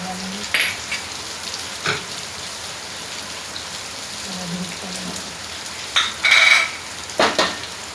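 Coriander fries in a pan for keema biryani: a low, quiet hiss with a few brief bursts of sizzling and stirring scrapes, loudest near the end.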